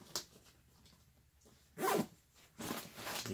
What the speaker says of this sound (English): you can use multiple zippers to open different parts of the bag